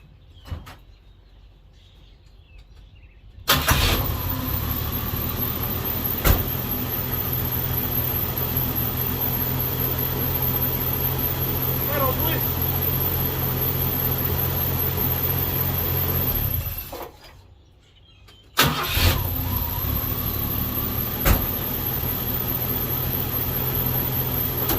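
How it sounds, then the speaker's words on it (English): Old 1982 Ford F-150 truck engine cranks and catches, idling steadily with a squeaking pulley whine on top; it cuts off, then starts again and runs on, close and loud. "That squeaking is the pulleys."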